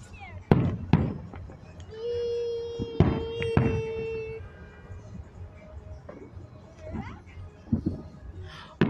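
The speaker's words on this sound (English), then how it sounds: "we have fireworks everywhere" Fourth of July fireworks burst all around a family show, sharp bangs and crackles at close to middling distance, one long whistling rocket, and scattered pops throughout, with people talking and cheering underneath.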